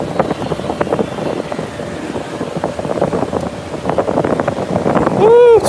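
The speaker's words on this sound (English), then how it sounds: "it's really windy right here" Steady wind buffeting a nearby microphone at an amusement park, a constant rushing roar with gusty swells, growing louder toward the end.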